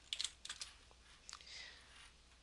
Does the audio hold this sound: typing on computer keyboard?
yes